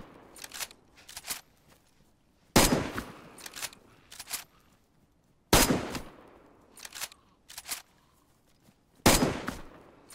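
Gunfire in the survival video game DayZ comes as sharp, loud shot bursts with echoing tails. Several heavy blasts are spaced a few seconds apart, with lighter quick shots and clicks between them.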